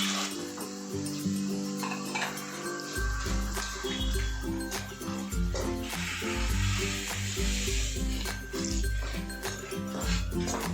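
Tempering for thin poha chivda with turmeric and roasted chana dal sizzles and crackles steadily in hot oil, a dense continuous frying hiss over a low, pulsing background hum.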